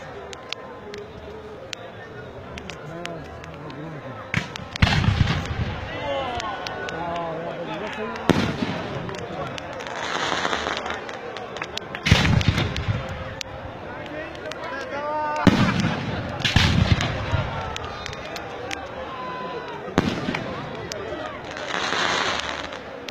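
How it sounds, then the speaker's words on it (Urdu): Fireworks for 14 August Independence Day in Pakistan burst repeatedly, with sharp bangs and crackling pops at irregular intervals over a busy outdoor background while people talk and shout. "14 اگست کو خوشحالی کی آتش بازی کی گی"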